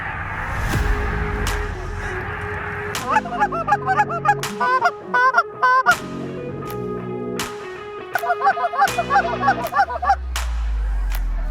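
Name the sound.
geese flying in and honking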